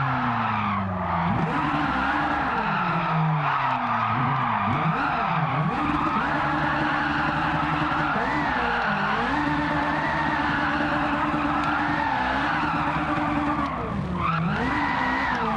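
A 740 hp Ferrari 458-engined Alfa Romeo 4C drifts in Gran Turismo 7, the engine note rising and falling in wavering sweeps under continuous loud tire squeal, with a sharp rev climb near the end.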